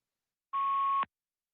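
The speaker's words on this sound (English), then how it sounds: "You got like a beeping going on your line." A single steady electronic tone on a phone line during a call-in show lasts about half a second, a clear mid-pitched beep standing alone against silence.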